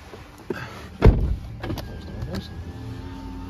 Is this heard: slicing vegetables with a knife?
no